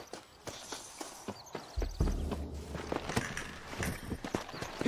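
Horse hooves clatter in Red Dead Redemption, a quick run of sharp clip-clop beats that grows busier and louder partway through, with a low rumble beneath.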